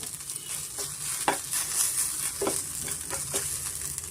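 Drumstick leaves frying in oil in a pan, a steady sizzle broken by several spatula stirring scrapes at irregular intervals, close and fairly loud, no talk.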